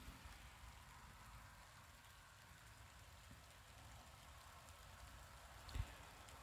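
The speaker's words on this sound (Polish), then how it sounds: "Pada." Soft, steady rain falls on a surface, a continuous gentle patter with one brief knock near the end.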